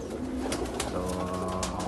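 Pigeons from a fancier's loft, birds being readied for shipment to India, coo in low, steady, rolling calls close by, with a faint hiss of room noise beneath.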